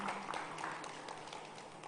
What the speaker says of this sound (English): Can we give a huge round of applause as we welcome him on the stage